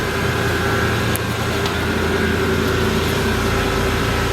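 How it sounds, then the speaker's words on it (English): Inside a Lexus GX470 with the engine running, a loud, steady mechanical hum and drone from the air suspension compressor continues without a break, close to the microphone. "then we can turn on our car, and then we can hear the compressor turning on."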